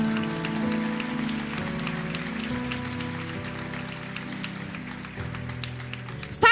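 An audience claps together in a dense, sustained round of applause at a church sermon, steady throughout and swelling briefly at the very end, with faint tones underneath.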